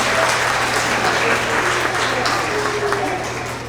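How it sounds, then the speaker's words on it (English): An audience at a kindergarten to second grade school award assembly clapping for first grade award winners, a steady round of applause with voices mixed in that eases off slightly at the end. "Let's give another round of applause for all of our first grade Tigers of the Quarter."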